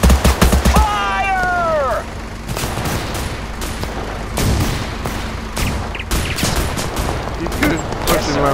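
Rapid gunfire bursts from the military shooter game Total Conflict: Resistance crackle loudly, with a shouted voice early and continued volleys and booms throughout.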